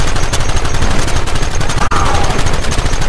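Rapid gunfire in the Red Dead Redemption game, loud and continuous bursts of overlapping shots in quick succession with one brief cutout midway.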